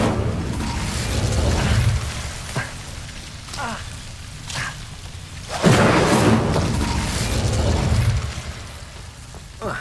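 A burst of fire magic cast in Hogwarts Legacy inside a dark herbology corridor, rising as a loud whooshing flare around mid-clip over a busy game soundscape with a low rumble and other spell effects.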